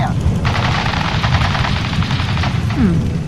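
Enemy gunfire in the video game Fallout 4, a rapid burst of automatic shots rattling steadily for a few seconds over a loud background, with a voice nearby.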